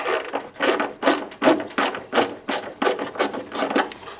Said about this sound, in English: I'm using a 7mm socket on this to remove this.